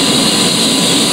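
The auxiliary power unit of an A-10C Warthog in the DCS flight simulator runs as a steady, loud, high whining roar, with no voices over it.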